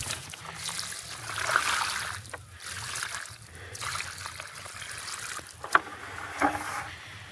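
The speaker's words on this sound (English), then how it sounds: "And the most important thing is to water it." Water poured onto a newly planted blackberry cutting in topsoil, a soft trickling and splashing with gentle surges and a couple of brief splats, no talk.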